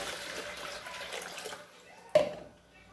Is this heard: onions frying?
no